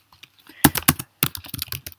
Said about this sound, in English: So I'm just going to start by typing in my title.